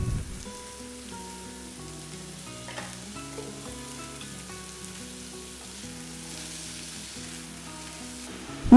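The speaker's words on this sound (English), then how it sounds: "Once the onions are done, add all the chopped veggies and salt and mix well." Chopped vegetables with salt stirred into fried onions in a pan for a veg paneer dish, a steady sizzle with scraping stir strokes under soft background music, no voices.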